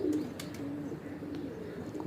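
Pigeons on a rooftop give low, soft cooing calls, a gentle continuous burble with a few faint clicks and rustles nearby.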